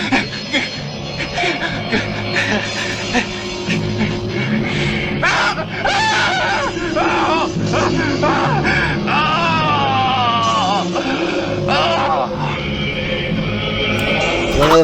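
A man screams in anguish over a long, continuous stretch during a Halloween horror game, with wavering, strained wails and yells that stay loud throughout, backed by other moans and cries.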